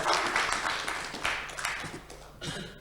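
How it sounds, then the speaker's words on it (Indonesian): Audience applause for the panel speakers at a forum on developing Tasikmalaya as a modern, environmentally minded city. The clapping is fairly faint and diffuse and fades over a few seconds. "Kasih tepuk tangan yang meriah untuk seluruh narasumber."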